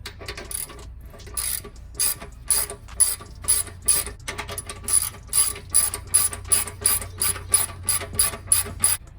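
A ratchet tightens an exhaust clamp on a BMW 335i fitted with a Dinan exhaust, giving a long steady run of close metallic clicks in an even back-and-forth rhythm that speeds up toward the end.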